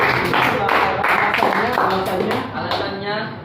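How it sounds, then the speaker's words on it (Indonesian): A small group of students claps in a classroom discussion, a few seconds of brisk, uneven clapping close by with voices talking over it. "Tepuk tangan"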